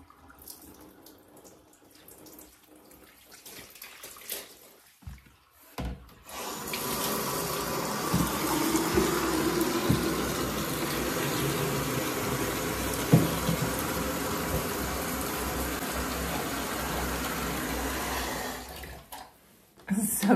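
Water from a salon tap rinses hair during a hair wash, a steady close hiss and splash that runs for about twelve seconds after quiet handling noises and then cuts off.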